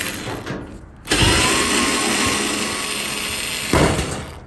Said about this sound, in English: So I get my electric screwdriver and unscrew it.